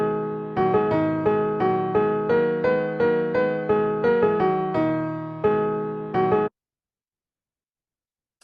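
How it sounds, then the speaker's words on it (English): A fast melody in a minor key, played as a quick run of evenly repeated bright notes with a steady driving pulse, then breaking off into silence. "What about something that's minor but fast? It sounds like this."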